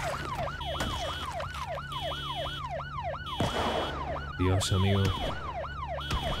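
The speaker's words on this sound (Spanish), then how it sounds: "Está sonando la sirena y la alarma del auto." A wailing, rapidly cycling emergency siren blares alongside a car alarm in the Project Zomboid video game, loud and sustained, with a brief harsher alarm burst near the end and a voice speaking briefly.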